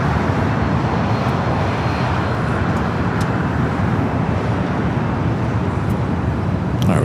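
Alaska Airlines Boeing 737-800 jet crossing a runway at LAX, a steady broadband engine roar holding at constant loudness throughout, fairly close and alone with no talk.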